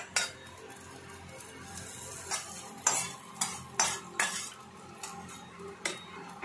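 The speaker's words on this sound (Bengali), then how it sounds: "এবার এই ফোড়নটা আমি এই চাটনির মধ্যে ঢেলে দেবো।" Mustard seed and curry leaf tempering poured into chutney, giving a soft hiss and faint crackle with several sharp clinks of a metal spoon against a pan or bowl, close and moderately quiet.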